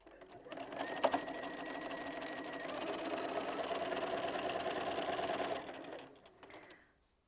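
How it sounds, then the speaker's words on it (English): A sewing machine stitches a quilt seam, whirring steadily at close range for several seconds, a fast mechanical buzz that runs evenly and then stops. "So I'm just going to take that over to the sewing machine, and we're going to sew that down."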